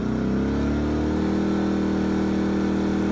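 Small 1500 watt inverter generator throttling up, a loud close steady engine drone whose pitch rises and settles as it revs, with no talking.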